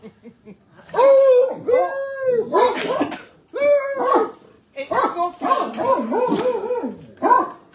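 Dogs bark and yelp repeatedly in loud, close bursts, some stretched into howling whines, with brief pauses between volleys.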